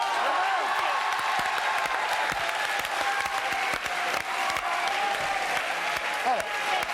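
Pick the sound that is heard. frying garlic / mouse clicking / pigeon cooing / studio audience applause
studio audience applause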